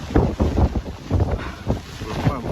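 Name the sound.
strong wind blowing against an umbrella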